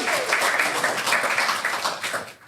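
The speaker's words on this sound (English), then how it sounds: "give our guys a big clap." A live coffee podcast audience claps steadily and densely throughout, the applause sustained and fairly loud before tapering off at the very end.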